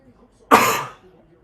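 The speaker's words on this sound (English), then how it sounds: "Excuse my coughing again," A single sharp cough, close and fairly loud, bursting out for about half a second and trailing off, alone in a quiet room.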